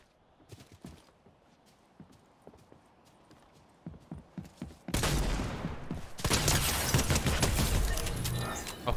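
Gunshots in Fortnite, a few sharp shots ringing out over light footsteps, then the action swells into a dense, loud barrage of rapid fire and impacts.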